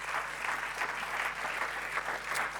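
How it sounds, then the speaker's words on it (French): An audience at a church gathering applauds a youth leader and preacher, a soft, steady patter of many hands heard from some distance. "Est-ce qu'on peut applaudir Fred là quand même?"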